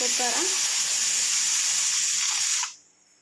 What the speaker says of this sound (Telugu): ఇప్పుడు ఇట్లా దీనిలో ఉన్న గాలి అనేది బయట తీసి చూద్దాం